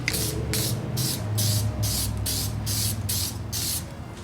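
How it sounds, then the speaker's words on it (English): Resin spray hissing from an aerosol can onto a 3D-printed part, about nine short bursts in a steady rhythm, close and fairly loud, each puff a sharp airy hiss separated by brief pauses. "I'm going to be applying a little bit of resin spray onto this."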